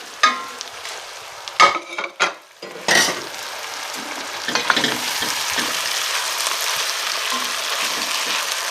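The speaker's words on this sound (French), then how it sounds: "je vais faire revenir mes oignons dedans" Onions frying in hot oil in a pot, with a few knocks and scrapes of stirring at first, then a steady, close sizzle carrying on alone without speech.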